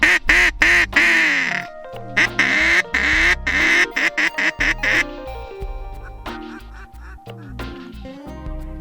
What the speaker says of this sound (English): We've got ducks swimming into the left